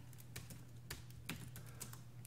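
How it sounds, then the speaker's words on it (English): Quiet, even typing on the chiclet keyboard of a Gigabyte P34Gv2 laptop, a run of soft, light key clicks close up with no voices. "It's a chiclet style keyboard, one of the most preferred to type on."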